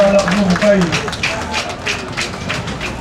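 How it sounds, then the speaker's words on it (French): Audience applause at a ceremony in Ouesse, steady dense clapping from a crowd filling the space, with a voice talking over it near the start. "Ayez les applaudissements, je vous en prie"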